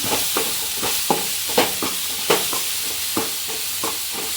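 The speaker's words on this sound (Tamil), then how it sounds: "நம்ம பொறிச்சு வச்சுருக்க மீனை இதில் போடலாம் இதை நல்லா இப்படி வதக்கி விட்டுக்கலாம்" Fried fish pieces are sautéed in a pan, with a spoon scraping and stirring in uneven strokes over a continuous close, moderate sizzle.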